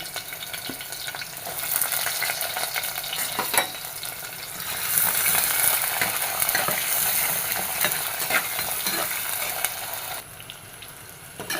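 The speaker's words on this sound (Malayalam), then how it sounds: "ചെറിയ ഉള്ളി നന്നായിട്ടൊന്ന് മൂത്തിട്ട് മൂത്ത് വരണം" Small shallots frying with lentils in oil in a pan, a close, loud continuous sizzle with stirring scrapes and spoon clatter throughout, easing off briefly near the end.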